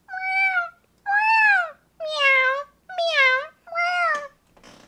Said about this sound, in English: the cat sounded like this